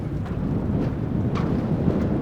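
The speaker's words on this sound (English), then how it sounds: "Quite windy" Wind blowing by the Umngot river at Shnongpdeng makes a steady low rumble and buffets the microphone throughout, with no clear voices.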